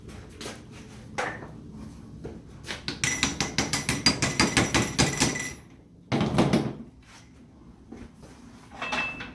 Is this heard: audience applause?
no